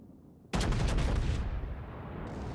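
Battleship guns firing in World of Warships naval combat, an abrupt loud booming salvo bursting from quiet, then a long rumbling roar that slowly fades with a rough, crackling tail.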